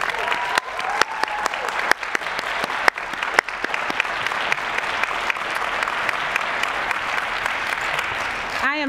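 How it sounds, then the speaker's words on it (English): A recognition ceremony audience applauds students in a continuous loud round of clapping with some sharp individual claps standing out, lasting the whole stretch. "I would like the audience to join me in giving these hopeful, resilient, and persevering students another round of applause."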